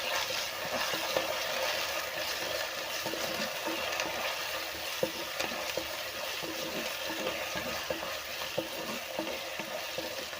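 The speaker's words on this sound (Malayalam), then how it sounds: "അരിഞ്ഞു വെച്ചിരിക്കുന്ന ഇഞ്ചി, പച്ചമുളക്, വേപ്പില, വെളുത്തുള്ളി, സവാള, ചെറിയ ഉള്ളി ഇവ ചേർത്തൊന്ന് നമുക്ക് വഴറ്റി കൊടുക്കാം" Ginger, green chili, curry leaves, garlic and onions sauté in a pan with a loud, constant, hissing sizzle, broken by frequent stirring scrapes and clicks, heard up close with no speech.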